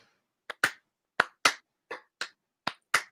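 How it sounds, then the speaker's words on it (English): A slow round of applause: eight separate, sharp hand claps spaced at about half-second intervals, some in close pairs, loud and near with silence between them and no talk. "We got to do a slow round of applause."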